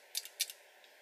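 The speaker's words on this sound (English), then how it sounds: "It's got beautiful clicky joints in the knees." The knee joints of a heavy die-cast Patlabor Ingram AV-98 toy figure give two pairs of crisp, close ratcheting clicks, then a faint final tick, over a quiet hum.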